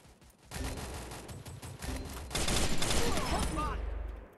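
In the Free Fire video game, gunfire comes in dense, loud bursts of rapid shots. The volume builds through the middle and peaks near the end, and there is no speech.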